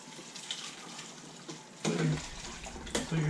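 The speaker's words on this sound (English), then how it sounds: "So the juice, you're going to strain out the onions and garlic, like we did last time." Hamonado marinade juice strained away from onions and garlic pours and splashes in quiet, irregular trickles, with two brief louder gushes near the end.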